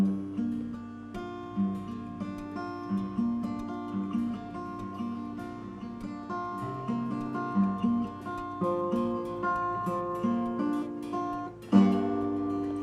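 Fingerpicked acoustic guitar rings out open strings in a steady, gentle pattern of plucked notes, close and moderately quiet, with no talking.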